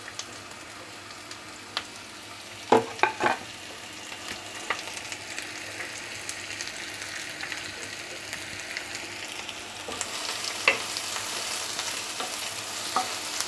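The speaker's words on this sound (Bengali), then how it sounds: "তেলটা গরম হয়ে গেলে দিয়ে দেবো আমি কুচানো পেঁয়াজটা।" Chopped onion fries in hot oil for a dried-fish chutney, crackling and sizzling steadily up close, with a few sharp spatters and scrapes of stirring scattered through.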